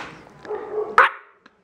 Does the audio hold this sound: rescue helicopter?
no